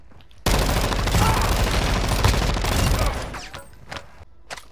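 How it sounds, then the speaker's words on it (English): Enemies fire a dense, loud burst of rapid gunfire in a Call of Duty zombies-style video game, sustained for a few seconds before fading, with faint voices near the end. "Oh, they're shooting at us."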